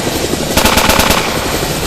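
Rapid automatic gunfire in the GameGuru Max game engine, fired at a character: a burst of close, loud shots in a quick steady rhythm, starting partway in and running to the end, with no talking.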